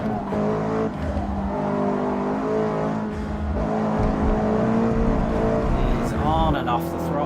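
A race car engine in Forza Motorsport is loud and steady, going on and off the throttle with pitch dips and recoveries, while someone talks over it throughout.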